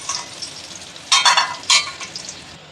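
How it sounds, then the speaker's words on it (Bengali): Whole cardamom, cinnamon and cloves dropped into hot oil, a soft background sizzle broken by two sharp, loud bursts of spattering crackle as the spices hit the oil. "এই তেলের মধ্যে আমি গোটা গরম মশলা দিয়ে দিলাম এলাচ দারচিনি লবঙ্গ"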